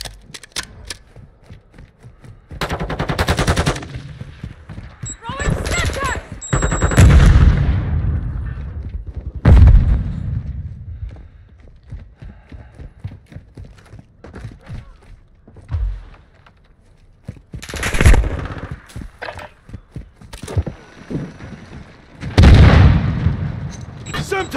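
Rapid submachine gun bursts from a VEL 46 in Call of Duty: Modern Warfare II, loud, close firing runs broken by pauses, with thuds and explosive booms mixed in amid battlefield commotion and callouts.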